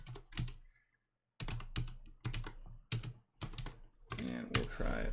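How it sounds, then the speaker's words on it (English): Quick, crisp keystrokes come in short clustered bursts as a command is typed on a computer keyboard, close and fairly quiet, with a silent pause early on and a denser flurry near the end. "So go ahead and type in this command here."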